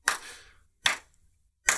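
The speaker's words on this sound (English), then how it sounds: "Slow clap for that title" Three slow, deliberate hand claps spaced almost a second apart, close and crisp, each with a short fading tail and quiet gaps between them.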